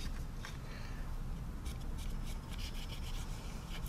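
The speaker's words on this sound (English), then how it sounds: "I'm gonna take a cotton bud, and then all we're gonna do is wipe away" A cotton bud rubs steadily across a 1/72 Special Hobby JA-37 Viggen model kit, a soft continuous scratchy friction running the whole time at close range with faint repeated strokes and no talk.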